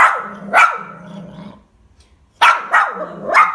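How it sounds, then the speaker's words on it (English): A dog barks in two bursts: a few loud barks, a pause of near silence, then several more close, sharp barks. "is it okay if she just barks?"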